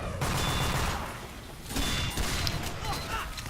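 Scout's pistol fired in Team Fortress 2, heard as bursts of rapid shots over a busy game mix, with a short lull in the middle before the firing resumes.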